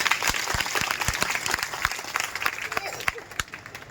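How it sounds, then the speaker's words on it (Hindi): Crowd at a Krishna Janmashtami temple gathering claps to welcome guests, a lively mix of individual claps over steady applause, with voices talking through it. "आप सभी करतल ध्वनि से तालियां बजाकर सभी अतिथियों का स्वागत करें।"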